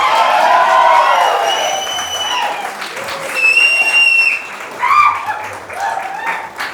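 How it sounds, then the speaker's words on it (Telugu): A studio audience at a Telugu talk show claps loudly and steadily, mixed with cheers, a few whistles and whoops, while a host's voice carries over the crowd. "కమ్ ఆన్ గైస్, గట్టిగా క్లాప్స్."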